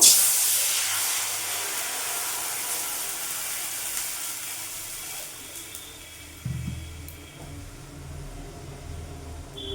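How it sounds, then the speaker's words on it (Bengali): Water hits a hot wok (kadai) that has just been used to fry peanuts, setting off a loud burst of hissing steam that slowly fades to a soft, steady hiss. "ওই কড়াইয়ের মধ্যে আমি"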